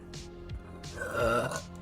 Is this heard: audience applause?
no